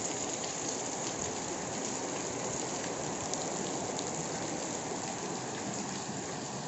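Steady, dense rain falling on surfaces, a constant hiss of even loudness with no speech.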